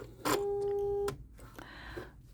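A Bernette B-77 sewing machine stitching out a short pattern: a brief whirring motor with a steady electronic tone, then a softer second run, close and quiet.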